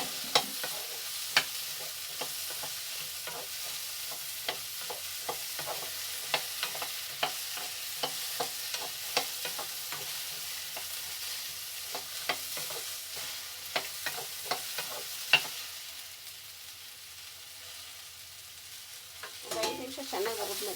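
Okra fries in hot oil while a utensil stirs and scrapes the pan in frequent irregular clicks over a soft steady sizzle, with a quieter stretch near the end.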